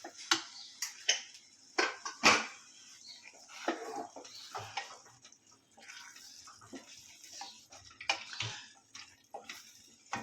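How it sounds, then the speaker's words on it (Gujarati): A pot of Kathiyawadi vaghareli khichdi with a glass of water added is stirred with a spoon, giving soft, close, intermittent scrapes and light clinks against the pot, with no talking. "સારી રીતે હલાવી નાખશું."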